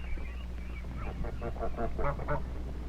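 Farm ducks quacking in a quick series of nasal calls clustered in the middle and later part, over a steady low hum.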